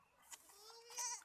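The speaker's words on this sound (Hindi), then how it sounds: "बकरी के छोटे बच्चे हैं।" Young goat kids bleat in short, close cries, one brief call followed by a longer wavering bleat, with no talk over them.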